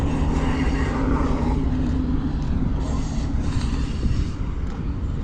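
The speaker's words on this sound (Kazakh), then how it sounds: "Оп, пойыз." A train passes near a stony roadside path, a steady broad rumble and rattle that stays loud and close throughout, with no voices over it.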